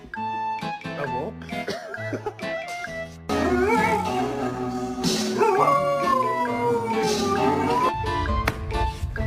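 A pet dog howls in long, wavering rising and falling tones, close and loud, while a person's voice talks in between the howls.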